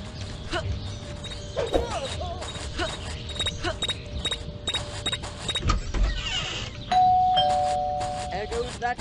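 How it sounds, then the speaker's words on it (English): A bell rings repeatedly in the video game Scary Teacher 3D, its tones sounding in bursts amid game noises and thuds, with a voice talking throughout. "There goes that stupid bell again."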